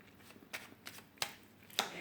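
Tarot de Marseille cards being shuffled, soft riffling bursts that come in a loose rhythm, close and quiet, with no speech.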